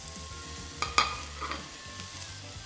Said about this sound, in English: Now we just want to saute the ginger and garlic paste in the sesame oil